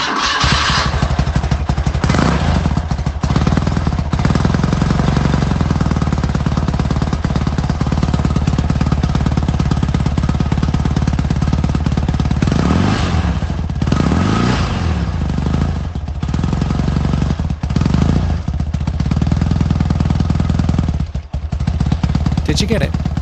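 A BMW R80 G/S boxer-twin motorcycle engine runs with a loud, steady throb and a couple of revving swells, fairly close throughout.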